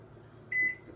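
A microwave oven heating water ends with one short, clear electronic beep over a faint low hum, nearby and with no speech.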